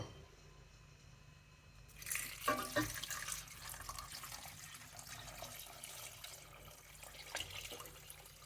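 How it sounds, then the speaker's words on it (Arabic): Water poured into a soup pot for Chinese soup, a quiet splashing pour starting about two seconds in and continuing as a soft, running trickle close by, with no talk. "وغادي نضيف لهم الماء ونشعل عليهم البوطه"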